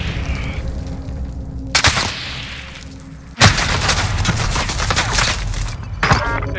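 Bursts of gunfire from the Call of Duty: Modern Warfare video game: loud sharp volleys and booming shots, with a heavy rattling barrage in the middle and another burst near the end, over a low background rumble.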